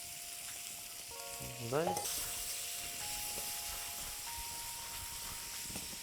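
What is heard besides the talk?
tomatoes added to a hot pan with courgettes for frittata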